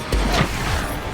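An Expulso explosion spell in a Harry Potter video game hits as one sharp, close crashing blast with a low thump, fading over about a second.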